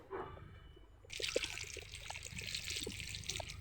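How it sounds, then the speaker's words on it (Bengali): Water poured into a cooking pot with potatoes set to boil, a steady bright pouring stream starting after a moment and running on close by, with faint clinks and no talk. "পানি দিয়ে দিলাম"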